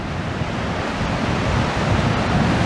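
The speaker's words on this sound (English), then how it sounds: "the sea is definitely on its way out" Sea waves wash onto a beach below a seaside promenade as the tide goes out, a steady, loud roar of surf blended with wind buffeting the microphone, with no pauses.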